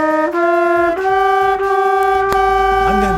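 Out of tune, a woodwind or brass instrument holds a sustained note whose pitch wavers and bends between several rearticulations, close and solo, ending with a sharp click and a low sliding tone.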